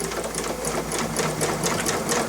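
A sewing machine stitches free motion embroidery in a steady, rapid, continuous whir of needle strokes, close and loud with no talking.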